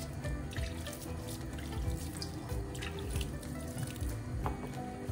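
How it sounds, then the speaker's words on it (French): Salted water poured into a bowl of couscous already dressed with olive oil, a steady continuous splashing stream held at an even level throughout, close up and with no talking. "Donc là j'ai mis l'huile d'olive et je vais ajouter mon eau salée"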